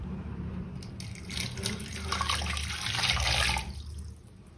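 Tap water pours steadily into a pot of cut potatoes being covered for boiling, a continuous close splashing rush that swells and then cuts off near the end.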